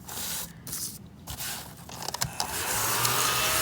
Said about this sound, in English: I wanted to show you the little vacuum thing.